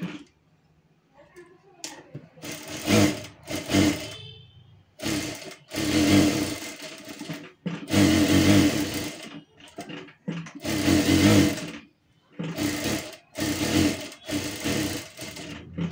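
Domestic sewing machine stitching lining onto a katori blouse piece, running in loud close bursts of rapid needle chatter separated by short pauses as the fabric is repositioned, with no voices.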